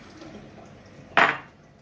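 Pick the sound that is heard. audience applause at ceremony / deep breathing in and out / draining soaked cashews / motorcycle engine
draining soaked cashews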